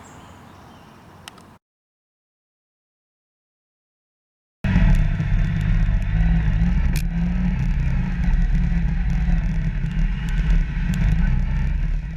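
A Yamaha YXZ1000R side-by-side heading out on a tight off-road trail at Walker Valley ORV, a loud, steady low engine drone with rattles starting after a short quiet stretch and a few seconds of silence.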